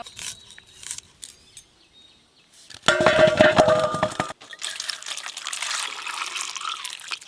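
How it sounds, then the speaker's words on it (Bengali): Potatoes being washed in water two or three times for aloo chop: a short burst of loud splashing and sloshing, then a softer ongoing swish of water, with light clinks before it. "আলুগুলো খুব ভালো করে 2-3 বার জল দিয়ে ধুয়ে নেব।"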